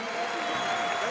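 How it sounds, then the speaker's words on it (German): Stadium crowd at a football club's season team presentation gives sustained, dense applause with crowd noise, steady and loud throughout the short stretch. "es gibt jetzt nochmal einen ganz großen Applaus"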